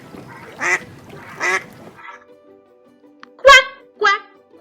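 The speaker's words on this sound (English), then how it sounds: "The ducks in the park said, quack" Ducks in a park quack in a short series of nasal, honking calls near the end, following a few spoken syllables from a voice.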